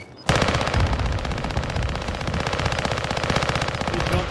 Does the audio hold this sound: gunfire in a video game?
yes